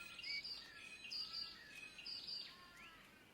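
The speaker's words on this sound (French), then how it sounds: "un corbeau flûteur à bec noir" A pied currawong in the Australian wild gives faint, high chirping calls that repeat over a quiet, hissy outdoor background.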